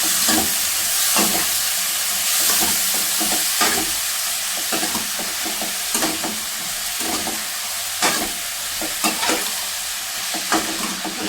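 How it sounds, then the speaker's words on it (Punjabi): Sliced ridge gourd frying and being stirred with onions in a pan, giving a steady close sizzle broken by repeated scraping clatters of the spoon, with no talking. "ਹੁਣ ਅਸੀਂ ਇਹਦੇ ਵਿੱਚ ਪਾਵਾਂਗੇ ਤੋਰੀਆਂ ਮਿਕਸ ਕਰ ਲਾਂਗੇ"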